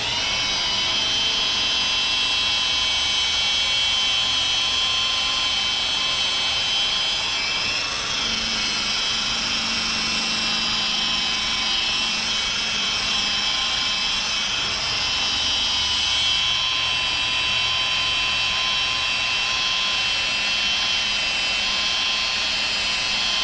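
A rotary polisher runs continuously on car paint during auto detailing, a steady loud machine whine with a bright high-pitched tone that holds even throughout, with no talking.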